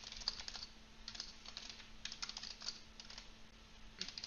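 Quiet, close-up typing on a computer keyboard while a message is written in Discord, with short bursts of key clicks separated by brief pauses over a faint steady hum.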